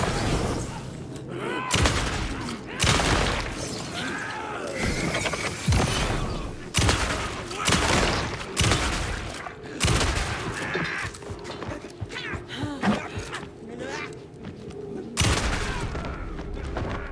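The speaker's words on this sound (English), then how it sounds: "At least we have a good shotgun now" In the Alan Wake 2 video game, a shotgun fires a rapid series of loud, sharp blasts, each followed by a short echo, with occasional talk between the shots.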